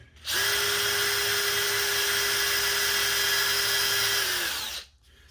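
A handheld power drill whirs steadily at close range for about four seconds, then spins down and stops.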